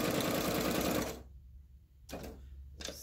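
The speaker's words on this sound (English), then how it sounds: "So we're just going to sew along." A sewing machine stitches zigzag on paper, humming in a steady rapid run for about a second, then stopping, followed by two short bursts of stitching.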